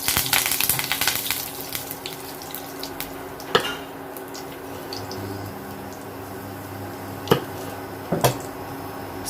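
Curry leaves drop into hot oil with mustard seeds for Gujarati dhokla tempering, giving a loud burst of sizzle that eases into a steady frying hiss, with a few sharp pops and crackles scattered through it.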